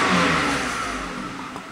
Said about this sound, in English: Just tap on the gas pedal and it goes up.